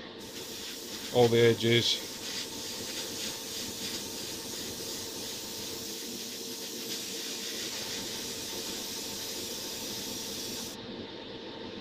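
Airbrush spraying a heavy wet coat of Badger Stynylrez polyurethane primer, a steady close hiss running almost without break, with a brief louder burst near the start and a short spoken remark early on.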